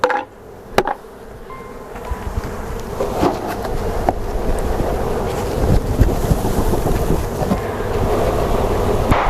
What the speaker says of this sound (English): And then we'll dump these bees in.